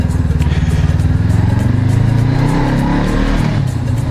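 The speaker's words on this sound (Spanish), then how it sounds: "así lo escuchéis un poco como escucho yo la moto" A motorcycle with a modified exhaust revs loudly and close up, a rough, throaty engine note that swells and falls steadily with no talking.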